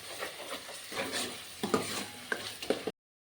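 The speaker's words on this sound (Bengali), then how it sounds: "এখন মশলাটাকে ভালো করে মিক্স করে নেব।" A spice mix of coriander powder, turmeric and salt is stirred in a pan for shol fish, giving close scraping strokes with a light sizzle and a few sharp clicks.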